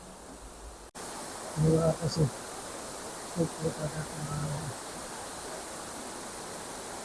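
Waterfall at Khandala in the rain, a steady broadband rush filling the whole clip at moderate level, with people talking briefly over it partway through.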